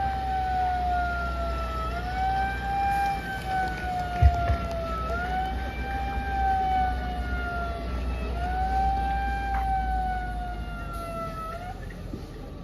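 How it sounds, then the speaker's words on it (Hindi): A police vehicle siren during a riot drill wails, rising and falling in steady repeating sweeps over a constant low engine rumble, loud and continuous throughout. "पूरा सायरन बजाते हुए जाना है"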